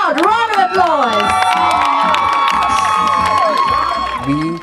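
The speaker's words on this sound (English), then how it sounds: "Let's give them a huge, loud round of applause." Audience at the Cape Town Festival cheering, shouting and whooping loudly, with children's high voices rising above a dense, sustained crowd roar throughout.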